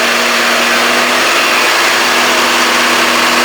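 A New Holland tractor with toroidal transmission, engine braking, runs loud and close with a steady droning rumble, its pitch shifting slightly as the engine slows.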